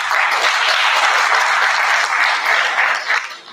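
Conference audience at a university Faculty of Arts social media event applauding a professor: loud, close, dense clapping from a room of listeners, steady throughout and thinning out toward the end.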